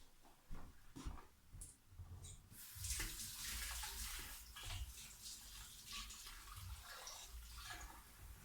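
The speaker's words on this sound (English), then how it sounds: "Let me wash my hands." Hands being washed under a running tap at a sink while making cold process soap, a steady broadband splash of water continuing for several seconds, fairly close, with a few brief knocks at the start and no talking.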